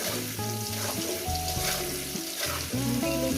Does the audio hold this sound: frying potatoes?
yes